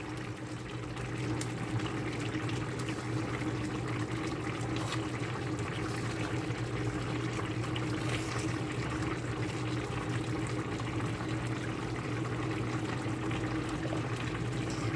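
Water pours steadily into a cooking pan on the stove, a continuous even wash of liquid sound at moderate level with no talking.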